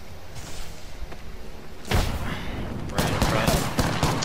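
Gunfire in an Apex Legends match comes as a burst of rapid shots and then keeps going in heavier, denser volleys, loud and close, with talking mixed in.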